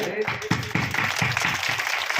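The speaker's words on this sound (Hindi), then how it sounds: "उनके लिए भी सम्मान स्वरूप एक बार तालियां" Audience applause fills a Ram Katha religious gathering in Palwal, Haryana, a dense, steady wash of clapping that runs the whole moment, with a voice heard faintly underneath.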